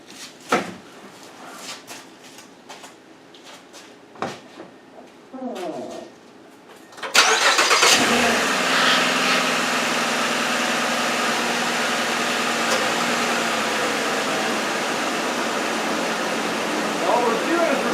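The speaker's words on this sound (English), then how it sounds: "Now we're going to start the engine" A Mazda CX-9 SUV cranks briefly and fires up, then settles into a steady, fairly loud idle; before the start, clicks and handling noises sound in a quiet space.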